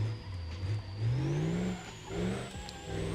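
A badly damaged car in the BeamNG driving game, its steering broken, revs its engine. A moderately loud engine note climbs and dips in pitch several times, rough and unsteady, with no talking.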